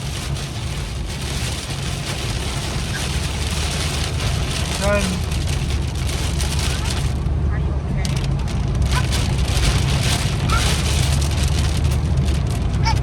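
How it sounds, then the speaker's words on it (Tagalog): Heavy rain with wind and hail pours down on a road in a steady, loud, dense hiss that fills the whole stretch, with a voice speaking briefly. "Kasama ng hangin, yelo, saka sobrang lakas na ulan."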